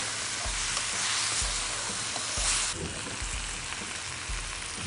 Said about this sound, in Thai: ผัดให้ใบโหระพาสุกนะครับ